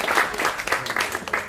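A short, thin round of applause from the audience at a GIPPSTAR sporting awards night, scattered claps filling the room for about a second and a half.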